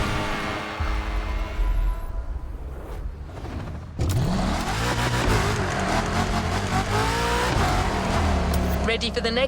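A Lamborghini in the racing game The Crew Motorfest revs hard on a mountain road, the engine climbing through gears with a sharp shift midway, loud and continuous under excited talk.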